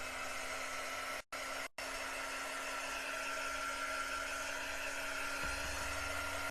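A hand-held drying tool blows steadily over a chalk craft project, a loud continuous whirring rush close by with two brief cut-outs near the start.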